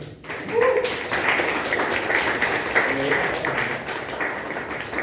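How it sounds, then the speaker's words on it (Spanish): A class of nephrology students applauds a classmate in a lecture room. The dense, steady clapping starts abruptly and carries on evenly, with some faint murmuring underneath. "un aplauso para su compañero"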